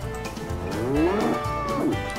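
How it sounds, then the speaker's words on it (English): Cow mooing sound effect in the Oregon Trail video game, a single drawn-out moo rising and falling in pitch, close and clear with no talking. "It's the sound of the Oregon Trail. Stuff breaking and cows."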